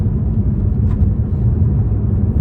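A Mercedes C43 AMG accelerating gives a loud, deep, continuous engine rumble that stays heavy and unbroken throughout, with no voices over it.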